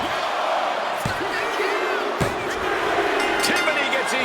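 Capacity arena crowd in the WWE 2K25 wrestling video game, a dense continuous roar of cheering and whooping with a few sharp slam impacts, loud and steady throughout, with commentary voices underneath.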